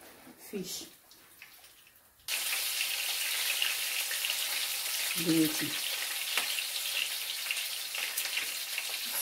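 Loud, steady sizzling of fish frying in a pan for Nigerian pepper stew begins abruptly and continues, with brief speech before and during the crackling.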